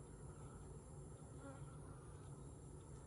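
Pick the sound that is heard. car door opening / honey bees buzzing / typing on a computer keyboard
honey bees buzzing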